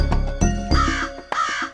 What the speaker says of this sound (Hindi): बेचारा कौआ बेचारा कौआ बेचारा कौआ